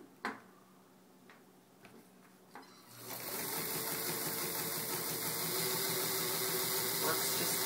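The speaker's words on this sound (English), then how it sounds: "I'll also demonstrate how it can stitch through leather." An old Pfaff sewing machine stitches through leather: a few isolated clicks and taps at first, then the motor starts and runs with a steady, continuous mechanical whir and fast rhythmic needle chatter until the end.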